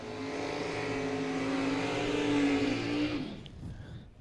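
An old Mopar drag car at a drag race, its engine holding a loud, steady drone at high revs for about three seconds before abruptly cutting off into quieter rumbling and crowd ambience.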